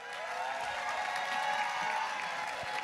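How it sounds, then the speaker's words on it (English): Quiet, distant applause from a pitch competition audience at the Thurgood Marshall College Fund event, a soft continuous wash of clapping with faint cheering and no clear talk. "Y'all clap it up for Heavenly Tech."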